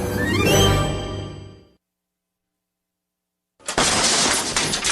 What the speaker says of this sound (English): That's the sound of your door being kicked in by an intruder with a single kick.